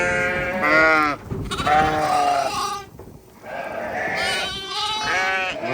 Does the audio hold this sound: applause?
no